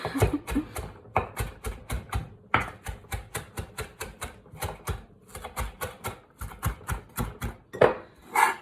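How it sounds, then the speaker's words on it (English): Herbs are chopped by hand with a knife on a board for tabbouleh, rapid close crisp knife strikes in quick irregular bursts with short pauses, no voices. "so now we're going to chop it again"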